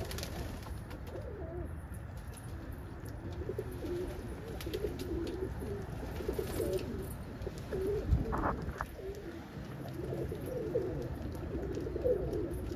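Domestic pigeons, including a blue check cockbird, coo softly in a loft on a rainy day, with low murmuring calls blended into a steady background of rain and hiss, and no talking.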